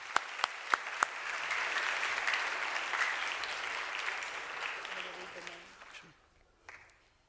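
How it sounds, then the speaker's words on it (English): Audience at a school commencement ceremony breaks into sustained applause after a few sharp early claps, holding steady for several seconds before fading out, with a brief scatter of claps at the end. "Please give yourselves a hand."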